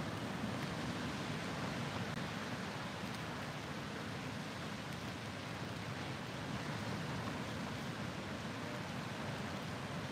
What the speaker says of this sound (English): I do love the sound of the ocean too